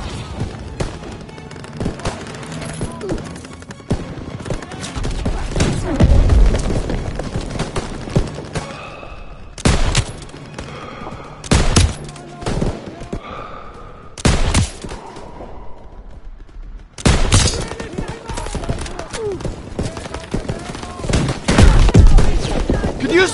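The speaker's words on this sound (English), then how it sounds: "Lobbing a grenade!" Gunfire and explosions from a WWII video game battle: loud clustered bursts of shots and blasts come in irregular waves, with quieter gaps between volleys and a heavy burst near the end.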